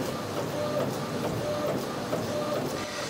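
A Procolored DTF printer runs through a print of a Pantone color chart, giving a steady mechanical whir with faint repeating carriage hums and shuffling, close and even throughout.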